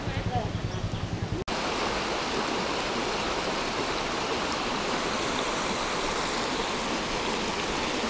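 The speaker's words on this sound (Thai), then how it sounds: "นี่หรือ ก็เรียกว่าน้ำตก" Mae Sa waterfall in Chiang Mai during a drought, a dense continuous rush of flowing water filling the scene, preceded by a brief stretch of voices before a sharp cut.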